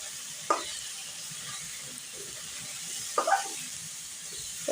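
Raw rice grains fry gently in a pan over a low flame, a soft steady hiss with two brief scraping stirs, quiet and close, no voices.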